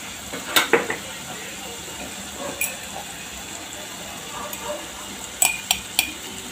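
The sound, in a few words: dry spices added to sizzling masala paste in a pan, stirred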